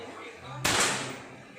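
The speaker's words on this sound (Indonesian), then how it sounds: "Ini kita akan mencoba menembak kembali, yaitu lubang peluru" Marauder air rifle fired at a target 25 meters away: a single sharp crack after a stretch of quiet, followed by a brief fading tail.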